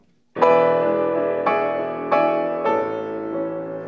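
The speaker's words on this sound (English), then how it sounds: "You hear how I changed the pedal on the downbeat there immediately after I played that?" A piano plays a smooth legato run of four sustained chords, each ringing into the next, with the sustain pedal changed on the downbeat so the sound stays joined and unblurred.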